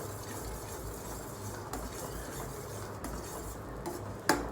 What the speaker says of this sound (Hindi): इसे लगातार चलाते रहेंगे।